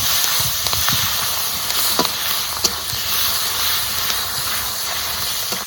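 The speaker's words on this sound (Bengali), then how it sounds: "তার সাথে সাথে কাঁচা লঙ্কা আর পেঁয়াজ কুচি দিয়ে দেবো। এবার একটু ভেজে নেবো।" Green chillies and chopped onion frying in fish oil in a Bengali home kitchen, giving a steady close hiss with faint crackles and a few soft pops throughout, no voices.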